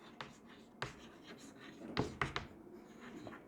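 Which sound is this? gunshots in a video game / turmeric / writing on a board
writing on a board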